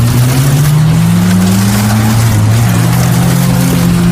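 A car launches in a drag race against another car, the engines' loud droning roar rising steadily in pitch as they accelerate, close and continuous without talk.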